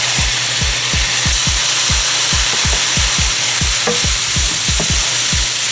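Garlic sautes in a hot pan with a loud, constant sizzle, while a utensil stirs and scrapes in a quick, regular rhythm of about two strokes per second, close and without any talking.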